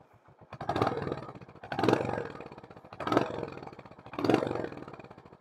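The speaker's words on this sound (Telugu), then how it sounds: "ఒకసారి బైక్ తంప్ అనేది వినండి." A Royal Enfield Hunter 350 motorcycle with its 350cc engine idles, then revs in four distinct, evenly spaced throttle blips with a deep thumping exhaust note, close and alone.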